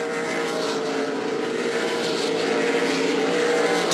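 NASCAR K&N Pro Series East stock cars roar around Thompson Speedway on the final laps, a loud continuous engine drone held at high revs without a break.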